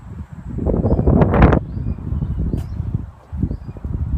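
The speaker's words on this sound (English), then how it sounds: "Hope you guys can hear me here as it is slightly windy." Low, rumbling gusts buffet the microphone in uneven bursts, strongest early on, with faint outdoor sounds and a brief bird-like chirp behind.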